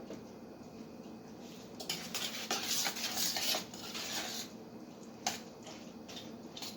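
Concord grape peelings are stirred in a pot for a grape pie filling, making soft wet squishing and rubbing with a burst of spoon scraping against the metal midway, quiet and close with no speech.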